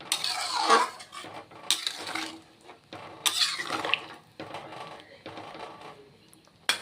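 Fried paneer being added to a potato and pointed gourd vegetable curry in a pan, several distinct clinks and scrapes of a utensil against the pan in separate bursts, with quiet gaps between them.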